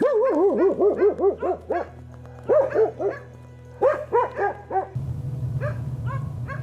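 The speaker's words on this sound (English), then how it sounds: "We have to follow the dogs." Several dogs bark in rapid, excited bursts near bears in rural Transylvania, with short yelps and whines in quick clusters, a brief pause, then another flurry before rustling noise takes over.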